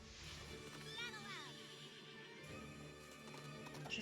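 A horse in the video game Princess Peach Showtime gives a faint whinny with a falling pitch, mixed into game music and clopping hooves.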